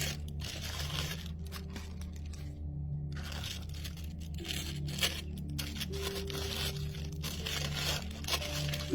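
An oracle card deck being unwrapped from satin paper, close crinkling and tearing rustles in irregular bursts with brief pauses, no talking.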